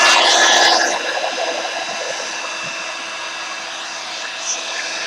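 A hair dryer blows on a freshly painted colour-pencil swatch, giving a loud, steady airy rush that is strongest at the start and then settles into a continuous hum with no talking.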